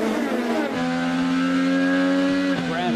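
IndyCar race cars screaming through the streets of St. Petersburg, a loud, high-revving engine note held steady then rising as a car passes close, with no commentary over it.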